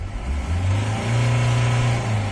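A Mahindra Scorpio diesel engine, recently repaired for diesel pump and wiring harness faults, revs up from idle to a higher sustained drone, then holds there close by with no talking.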